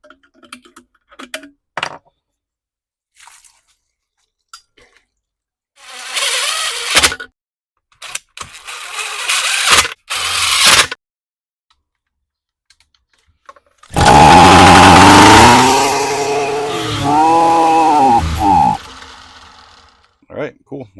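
Toro string trimmer engine, previously flooding, gives scattered short bursts and clicks, then starts and runs loudly for several seconds with rising and falling revs before cutting off.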